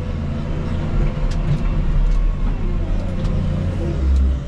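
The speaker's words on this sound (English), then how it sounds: "One last truck here for the day. Farm truck, Miller Farms out of Voorheesville, New York." A Miller Farms farm truck pulls in, its engine rumbling steadily and close with a low, heavy drone that swells slightly near the end, with no talking over it.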